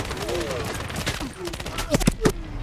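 Gunfire in Medal of Honor (2010): a few sharp, loud shots crack out near the end, following quieter voices and whistling game sounds.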